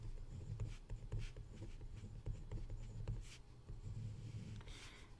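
A pen scratches out a pre-calculus trigonometry problem in a run of quick, soft, close strokes and taps on paper. No voices are heard.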